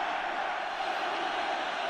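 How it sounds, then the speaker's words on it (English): A large football stadium crowd at Atletico Madrid against Barcelona voicing disapproval, a dense sustained roar of whistles and jeers filling the whole stretch evenly from a distance. "Crowd don't like it."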